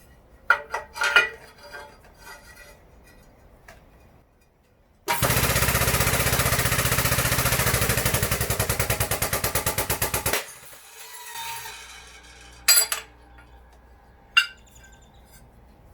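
An Edwards Multi Shear on a Harbor Freight 20-ton shop press cuts 1/8 inch hot-rolled steel angle, with scattered clanks, then about five seconds of a loud rapid rattling hammer-like chatter, followed by a few sharp metallic knocks.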